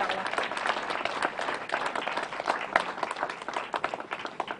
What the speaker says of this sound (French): Bravo les enfants, on peut les applaudir.